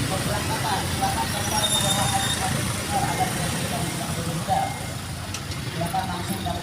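A traffic jam on a village road in Cidahu, Sukabumi, during a festival parade: a steady low rumble of idling car and truck engines running close by beneath ongoing talk.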